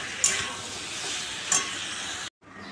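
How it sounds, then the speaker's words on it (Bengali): Papaya, pointed gourd and potato curry sautéing in a pan, a steady close sizzle with two sharp bursts of stirring, then a brief drop to near silence before the frying resumes more quietly. "পেঁপে পটল আলুর ডালনা ভালো করে কষাই"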